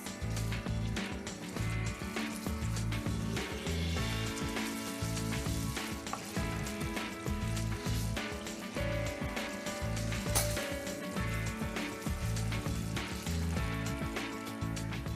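Tomato paste and pepper paste fry in a pan and give off a loud, dense, continuous sizzle while being stirred, with scraping and clinking against the pan throughout and no voices.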